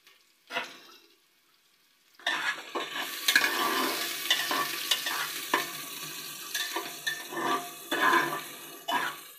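Chili and whole spices such as cardamom and cinnamon fry in a pressure cooker for bhuna khichuri. A short clatter comes first, then after a pause a loud, continuous sizzle and crackle rises, broken by repeated stirring scrapes and clinks.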